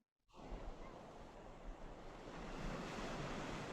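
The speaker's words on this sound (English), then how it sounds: "we feel the power of the waves crashing" Ocean surf washes against the Northern California shore in a continuous soft roar of breaking waves. It is faint and distant, with no voices.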